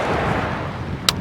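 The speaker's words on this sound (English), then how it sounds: "So I'm going to cast with mags on" A light beach fishing rod cast with magnetic brakes engaged on Chesil Beach, a sharp brief swish and line burst near the end, standing out over steady wind and surf noise.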